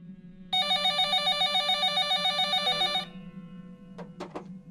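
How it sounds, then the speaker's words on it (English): A telephone sitting on a counter rings loudly and close in a quick, steady trilling burst for a few seconds, then stops; a few short sharp knocks follow over a low background hum. "the phone on the counter rang."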